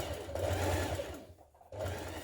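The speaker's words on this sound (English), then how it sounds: "I'm going to sew all around the neckline." A sewing machine hums as it stitches around the neckline of a dress, running steadily, pausing briefly, then starting up again at close range with no voices.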